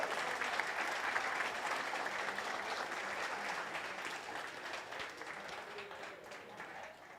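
A LAN esports playoff crowd claps for Team Sashi, steady broad applause heard from a distance at low level, slowly thinning toward the end.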